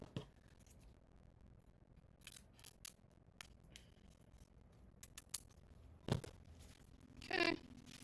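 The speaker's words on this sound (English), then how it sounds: "I'm going to cut that tag off." Scissors snip a tag off a fabric dish drying mat during sewing, a few faint clicks and crisp cuts scattered in a quiet room, with a louder rustle near the end and no talk.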